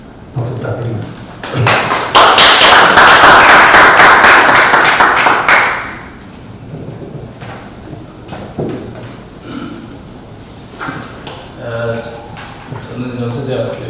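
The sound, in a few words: audience applause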